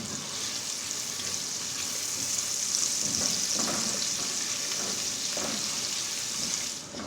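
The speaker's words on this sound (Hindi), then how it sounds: "अब इसके अंदर प्याज डालते हैं। प्याज को गोल्डन करेंगे।" Onions fry in a pan with roasted spices for vermicelli pulao, a steady close sizzle with soft stirring scrapes throughout and no talking.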